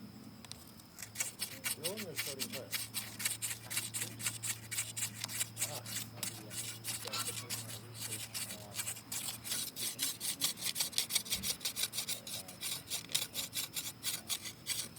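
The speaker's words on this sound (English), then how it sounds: "show you the process of drilling with this stone drill" A Hopewell-style stone drill bores a hole while set on the ground, giving steady rhythmic rasping and scraping strokes close by, with low background sounds.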